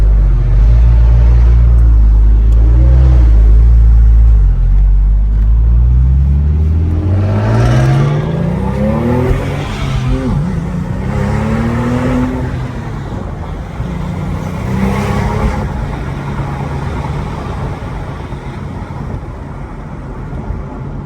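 Porsche 911 Turbo with a Metzger engine accelerating hard, a deep loud rumble rising in pitch through several gear changes with a whooshing turbo whir, close and continuous, with no talking.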